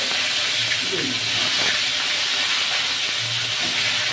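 Cauliflower fries in hot oil for a cauliflower korma with cashew paste and milk, a steady, loud hissing sizzle throughout, with faint clinks beneath.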